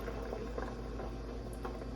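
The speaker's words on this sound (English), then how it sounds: "So now what I'm going to do is add my water." Water, about four cups, poured into a pot over a seared beef chuck roast, giving a steady close bubbling rush of liquid with no talk.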